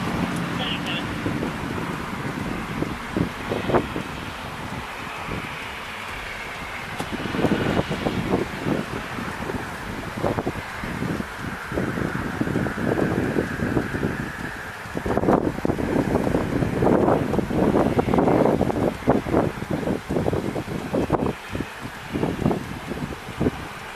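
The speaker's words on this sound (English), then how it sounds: "Wind blowing, making it a little difficult." Strong wind buffets an outdoor microphone throughout, a continuous rough roar with gusts and thumps, mixed with distant road traffic and occasional voices at a roadside police stop.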